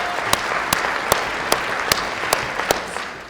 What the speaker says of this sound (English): Round of applause for the Grey Cup.